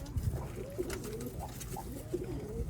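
Pigeons coo softly in short, repeated low calls, a few separate coos spread across the moment against light background noise.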